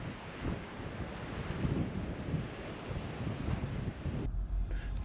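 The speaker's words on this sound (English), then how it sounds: "we've picked up some wind here." Wind rushes across a canyon campsite, buffeting the microphone with a steady, fairly loud roar and gusty surges, then suddenly drops to a quieter rumble near the end.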